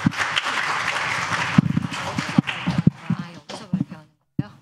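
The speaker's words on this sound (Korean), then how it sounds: "큰 박수로 환영해 주시기 바랍니다." Applause at a social welfare policy forum welcomes a presenting professor, starting as a dense burst, then breaking into scattered individual claps with voices talking in between before it fades out.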